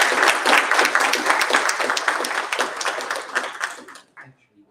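An audience applauds in a dense burst of clapping that gradually thins out and fades to a few last claps.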